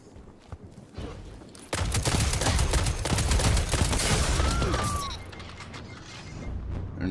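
Rapid hand cannon fire in Destiny 2 during a PvP duel: a dense stretch of loud, sharp shots and mechanical clatter in the middle of the clip, with quieter game ambience before and after.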